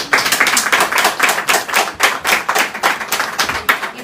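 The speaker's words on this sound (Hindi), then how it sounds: "बजा दो ताली" Rhythmic hand clapping, about a dozen sharp, close claps in a steady beat with a short break in the middle, sounding like a small group clapping together, with no speech.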